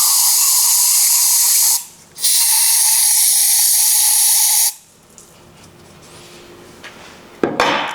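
A loud, steady spray hisses as grime is rinsed from the brake caliper bores of a 2011 Toyota Sienna. Two long bursts are split by a short pause, followed by quieter shop noise and a knock near the end.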